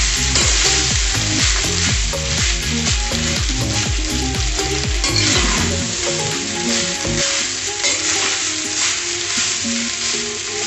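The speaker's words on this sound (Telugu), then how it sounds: "ఈ రైస్ని ఇలా మిక్స్ చేసుకుందాం పోపుతో." Cooked rice being stirred through a fried onion tempering in a hot pan sizzles loudly, with repeated scraping and tossing strokes through the first half before settling into a steadier frying hiss.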